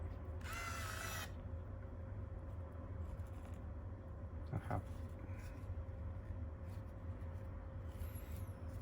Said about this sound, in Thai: ทีนี้เปิดเครื่อง นะครับปุ่ม power จะอยู่ตรงนี้